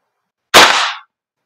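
A Golden Eagle M4A1 airsoft gas blowback rifle fires once, a single sharp, loud, close pop with a short hissing tail, set against silence.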